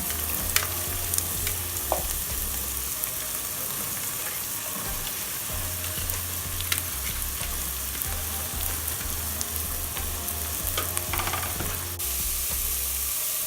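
Leeks and onion fry in a pan with a continuous close sizzle, while scraping stirs and a low intermittent hum run beneath it; no one speaks.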